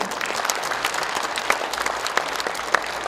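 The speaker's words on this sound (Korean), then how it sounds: "지역위원장님과 이 자리에 계시는 당원 여러분께 격려와 박수를 보내드립니다." Party members at a Democratic Party regional rally in Daegu-Gyeongbuk break into dense, steady applause, loud and continuous with sharper individual claps standing out.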